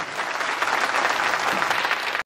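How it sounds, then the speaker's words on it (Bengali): Loud, dense applause from an audience standing in a hall, steady and sustained the whole time before cutting off abruptly at the end. "তো একবার নিজের জায়গা থেকে দাঁড়িয়ে স্যারদের জন্য জোরে হাততালি হোক সবার জন্য।"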